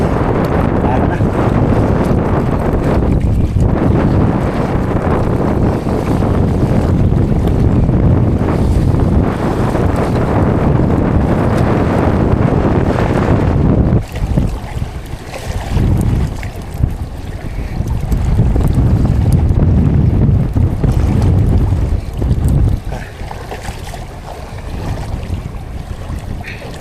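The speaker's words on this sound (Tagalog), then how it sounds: "Laking alang-alon dito sa linaw." Strong wind and big waves around a small fishing boat out in a rough northeast monsoon, loud buffeting wind noise over the rushing water, easing midway then gusting again.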